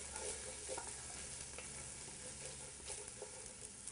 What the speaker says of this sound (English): just kind of let the garlic and the ginger cook for, I'd say, just a minute or two